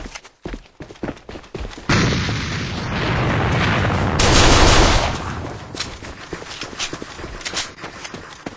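Grenade blast in the shooter game A.V.A: a few sharp gunshots, then a loud, broad explosion that swells into a sustained rumble, with scattered gunfire and clicks before and after.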